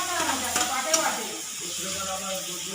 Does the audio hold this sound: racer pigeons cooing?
no